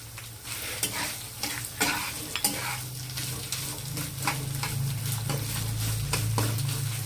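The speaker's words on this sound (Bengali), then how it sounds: "মশলাটা ভালো করে কষিয়ে নিয়ে দিয়ে দিচ্ছি কাটা টমেটো" Chopped tomato hits a pan of sautéed spice paste, a steady sizzle with repeated spoon scrapes and stirring strokes over a low hum, close-up and without talk.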